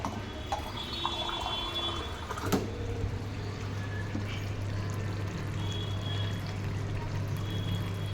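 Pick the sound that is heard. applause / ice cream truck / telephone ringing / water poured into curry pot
water poured into curry pot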